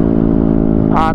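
A motorcycle with an open muffler and 11 g and 12 g CVT fly balls drones at steady high revs near the microphone, holding a constant engine tone through the short clip.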